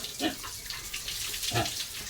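Water flowing from a pipe fed by a large drum on a sidecar, a steady splashing gush with a couple of louder splashes, moderately quiet under the background.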